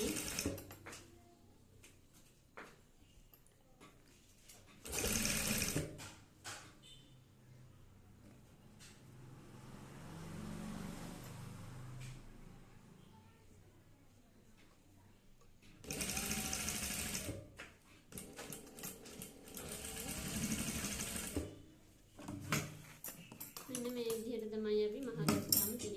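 Sewing machine stitching with yellow thread, running in several loud bursts of rapid mechanical whirring between quieter stretches with light handling clatter.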